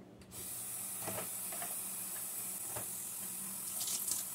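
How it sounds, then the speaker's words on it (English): Tap water runs into a sink to rinse shirataki pasta, a steady close hiss of running water with a few splashy bursts as the noodles are moved under the stream. "And I'm going to rinse the pasta."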